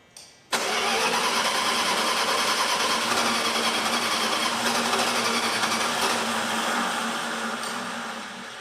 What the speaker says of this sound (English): I bet if I pumped the gas pedal with the club, it would start